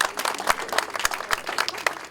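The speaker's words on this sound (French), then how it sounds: "Vous pouvez applaudir parce que..." A small audience at a housing inauguration claps, scattered sharp hand claps forming brief, moderate applause.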